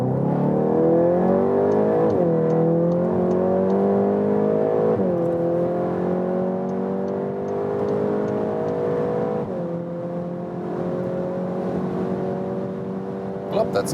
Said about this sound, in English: And now let's accelerate out.